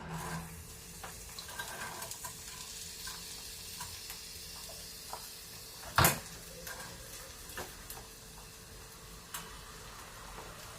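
Washed, chopped beans tipped into a hot pan for a beans curry: a faint, steady sizzle with light clinks and one sharp clatter midway, no talking.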